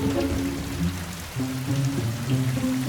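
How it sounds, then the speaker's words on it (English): Steady rain pours down with a constant hiss of drops hitting a surface, loud and unbroken, with faint low tones underneath. "Lightning flashes and rain pours down."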